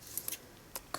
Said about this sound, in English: we need to just get the scissors and cut